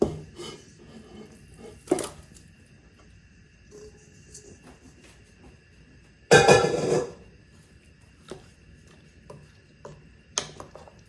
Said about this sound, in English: And add the meat.